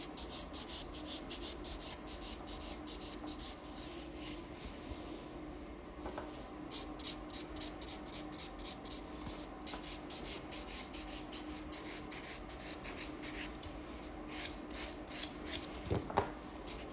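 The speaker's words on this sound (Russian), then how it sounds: "Снимаем блеск шлифовочной пилкой 100 на 180." A 100/180 buffing file is rubbed back and forth over an acrylic gel nail to remove its shine, giving quiet, quick rhythmic rasping strokes that continue evenly throughout with no talk.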